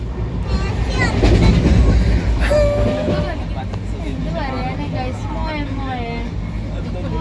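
Train carriage rolling along rails on a long journey to Manali, a steady loud rumble throughout, with people talking and chattering over the noise inside the coach.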